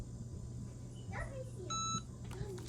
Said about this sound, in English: you're going to hear your Cricut EasyPress beep to let you know it finished